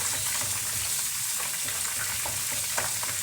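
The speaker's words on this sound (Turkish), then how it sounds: "Güzelce kıymamla da kavuracağım arkadaşlar" Onions and minced meat frying in a pan for karnıyarık, giving a steady, even sizzle with soft stirring scrapes and no voices.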